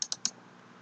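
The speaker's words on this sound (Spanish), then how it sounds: "Voy a hacer un doble clic." Mouse clicks in software, three crisp, quiet clicks in quick succession, the last slightly stronger, over a faint steady background hum.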